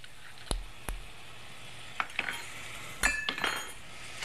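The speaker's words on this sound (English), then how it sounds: "And stir all of this together." Spoon stirring minced garlic into tomato sauce for a beef roast, a few faint clinks and scrapes against the dish amid quiet pauses.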